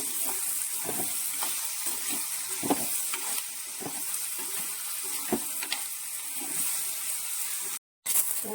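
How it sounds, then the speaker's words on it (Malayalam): Grated coconut for a Kerala theeyal with shallots and mango roasts in a pan, giving a steady close sizzle broken by repeated scraping stirs and a brief dropout near the end. "നമ്മുടെ തേങ്ങ എല്ലാം ദേ നന്നായിട്ട് മൂത്ത് വരുന്നുണ്ട്"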